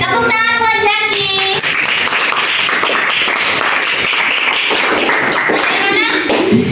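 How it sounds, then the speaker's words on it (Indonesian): A group of people applauds at a teacher-training competency exam session, with dense sustained clapping filling the room after a brief musical tone at the start. "tepuk tangan buat Jaki."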